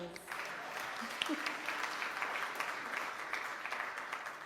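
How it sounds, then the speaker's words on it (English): Quiet but steady audience applause at a Kenyan-German job fair, an even patter of clapping heard from a distance that continues throughout, with faint voices briefly audible near the start. "Give her another round of applause."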